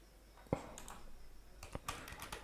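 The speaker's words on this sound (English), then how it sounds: "So just type here" A handful of faint, sparse keystrokes on a computer keyboard while code is entered, with soft clicks spaced irregularly in a quiet room.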